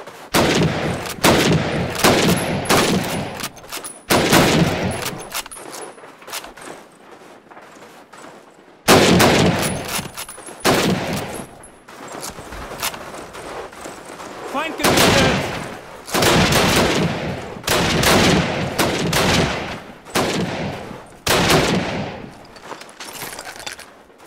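Call of Duty multiplayer gunfire on a harbor map in Search and Destroy, loud rapid bursts of rifle and machine-gun shots in clusters with short pauses, close and sharp throughout.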